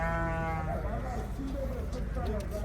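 Sheep bleating at the Sokuluk livestock market, a long close bleat followed by fainter calls from the flock, with people talking over a steady crowd murmur.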